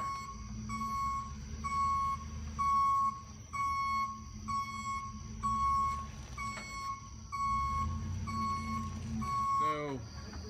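AAA flatbed tow truck raising a Tesla onto its bed: steady repeating high warning beeps pulse over a loud low hydraulic and engine drone, with a brief squeal near the end.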